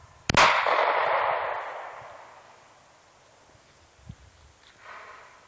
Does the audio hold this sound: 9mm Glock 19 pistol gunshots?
yes